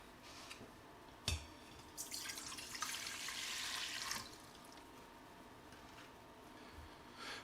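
Warm water pours into a pot for bread dough for about two seconds with a bright splashing rush, preceded by a clunk and followed by quiet drips.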